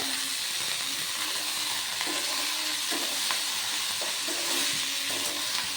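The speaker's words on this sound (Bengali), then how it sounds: "এটাকে নাড়াচাড়া করে নেবো দেখবেন একটু নাড়া দিলেই এটা একদম কমে যাবে" Steady, close sizzling hiss of drumstick flowers frying in a pan with chopped green chilli, broken by soft scraping stirs of a spatula throughout.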